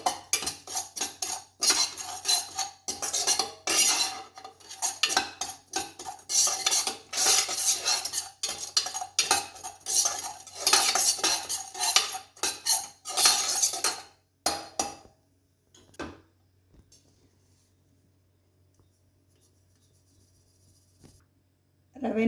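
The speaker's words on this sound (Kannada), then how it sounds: "ರವೆನ ಹುರ್ಕೊಳ್ತಾ ಇದ್ದೀನಿ." A metal spoon stirs semolina (rava) roasting in a hot pan with brisk, repeated scraping and clinking against the pan, close and loud for about fifteen seconds before fading to near silence with a few faint taps.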